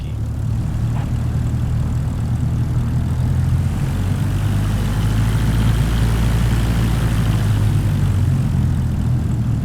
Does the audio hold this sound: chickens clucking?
no